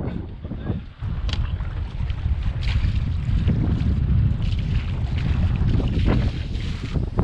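A sailboat under genoa alone at seven knots, eighty degrees off the wind, heard as a constant rush of wind and water against the hull with gusty buffeting, near and steady.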